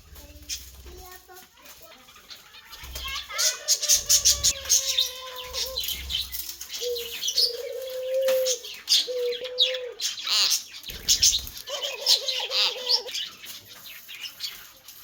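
Birds calling outdoors, with soft cooing from doves mixed with higher parrot chirps and tweets, fairly close, and occasional low thumps and rustling between calls.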